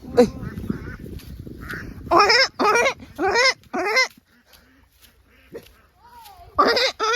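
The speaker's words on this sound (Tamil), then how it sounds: "அந்த நாய்க்கு பாரு" A dog barks near a group of ducks, several loud close barks in bursts with quieter gaps between them, while a voice speaks faintly at the start.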